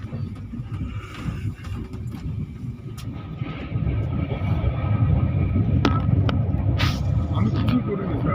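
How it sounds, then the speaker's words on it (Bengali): The 13181 Kaziranga Express runs on after pulling out of Bolpur station, its low rumble steady at first and swelling louder partway through, with voices talking nearby over the noise. "বোলপুর স্টেশন থেকে ট্রেন ছেড়ে দিয়েছে"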